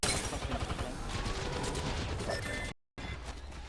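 Rapid bursts of video-game gunfire fill the scene, a dense fusillade of shots with mechanical clatter, loud and near, broken by a brief dropout before resuming.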